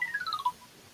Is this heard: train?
no